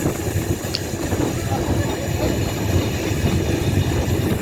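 A narrow gauge steam train rumbles along at a steady pace on the Lincolnshire Coast Light Railway, a continuous low chugging and rolling noise heard from on board.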